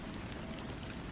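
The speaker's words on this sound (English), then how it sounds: "Raindrops danced softly against the window" Rain falling against a window as a soft, steady, even patter with no other sounds, faint and constant.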